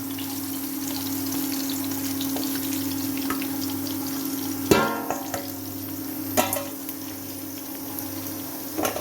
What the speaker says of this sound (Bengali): মাছগুলো লাল লাল করে কড়া করে ভাজা হয়ে গেছে এখন তুলে নেওয়া হচ্ছে